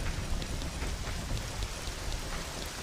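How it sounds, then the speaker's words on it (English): Heavy rain pours down in a cemetery in The Legend of Zelda: Ocarina of Time, a constant, dense hiss, loud and close, with no voices over it. "it is raining cats and dogs here"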